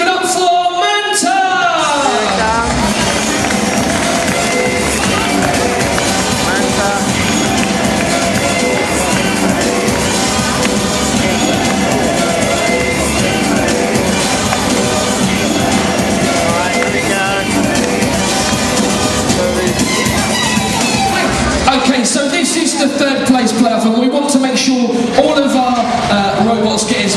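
A large crowd cheers and roars continuously for the robot Manta at the Robot Wars World Championship arena, loud and dense throughout.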